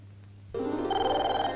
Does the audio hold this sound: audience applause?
no